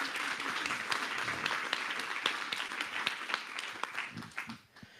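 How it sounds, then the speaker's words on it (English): Audience applause at a literary tribute event, a dense patter of many hands clapping at moderate volume, tapering off at the end. "Applause for Ayan."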